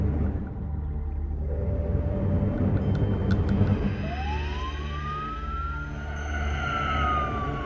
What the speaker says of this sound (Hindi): एक पुलिस की गाड़ी पीछे आ रही थी